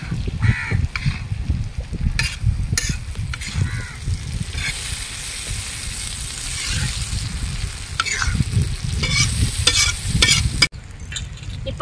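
Chopped mint and coriander stir-fried in a pan over a wood fire, crackling sizzle under repeated scraping strokes of a ladle, close and fairly loud with a few bird calls in the background.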